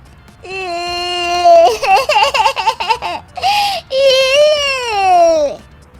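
Infant crying as a sound effect in a Hindi animated story: loud, close wails in long drawn-out rising and falling bursts, with a brief pause before a final sustained cry, and no other sound present.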